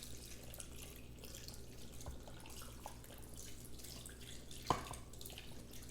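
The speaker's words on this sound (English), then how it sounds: "I'm gonna start with 4 cups of water first." Water runs steadily from a faucet at low volume into an Instant Pot insert, a continuous trickling wash with one brief clink near the end.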